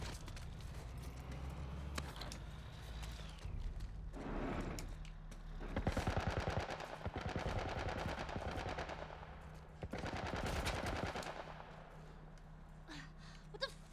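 Bursts of military turret machine gun fire in The Last of Us, loud rattling volleys in several long strings over a steady low in-game hum, with short gaps between the streams of shots.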